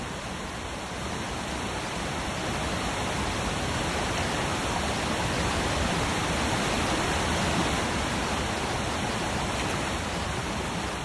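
Turbulent river water crashes steadily near a waterfall in untouched Alaskan wilderness, a loud, unbroken roar of rushing water with no other sounds.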